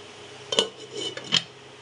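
A metal lid is set on a cooking pot holding bottle gourd and fish, making two sharp, close clinks about a second apart with a faint scrape between them; no voices.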